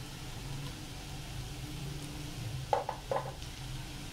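Chopped capsicum fries quietly in a pan under a low steady hiss, then a spoon clinks and scrapes against the metal a few times as it is stirred.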